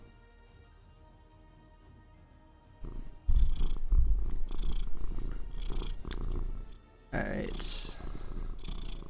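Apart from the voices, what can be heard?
cat purring on a lap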